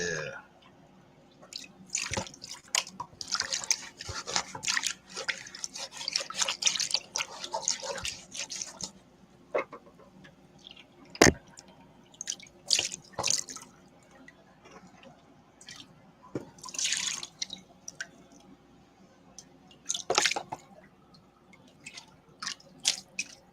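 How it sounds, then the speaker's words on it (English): Water is poured over muddy crushed gold panning samples. Bursts of splashing and dripping come up close and loud, then pause and return in separate pours. "I need more water than that for this muddy stuff."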